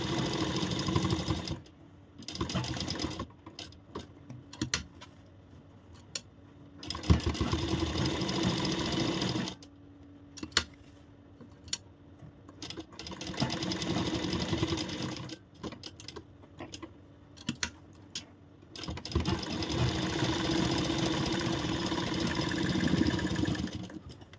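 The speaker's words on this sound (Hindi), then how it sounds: "सेम इसी तरह इस पर एक और सिलाई लगाएंगे। ये बहुत ज़रूरी है, यहाँ हमें डबल सिलाई लगानी है।" Close machine stitching runs along the shaped neckline of a corset blouse, sewing a second line of double stitching in several bursts of whirring broken by short stops.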